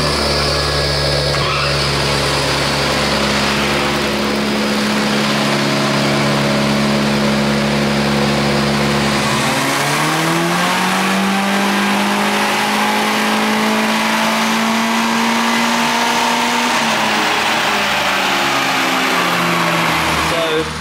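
Turbocharged Mitsubishi 4G93 SOHC engine with stock internals pulling on a dyno, a loud sustained drone holding steady, then dropping and climbing smoothly in pitch as revs build under boost, continuous and close.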